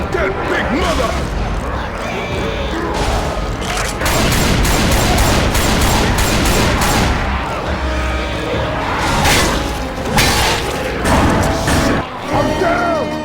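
Gunfire in the video game Left 4 Dead 2 on Xbox One, dense, loud, continuous volleys of shots and crashes across the whole stretch, with voices shouting over the fighting.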